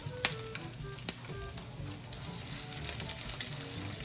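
Shrimp paste (alamang) hitting a hot pan in a home kitchen, giving a steady close sizzle with scattered pops and a few scraping stirs, no talking.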